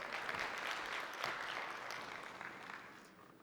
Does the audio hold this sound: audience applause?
yes